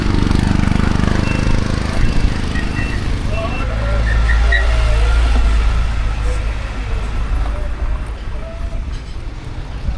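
Busy road traffic with heavy vehicles rumbling past, a deep engine drone swelling and fading as they go by, mixed with faint horn-like tones and a person talking over it.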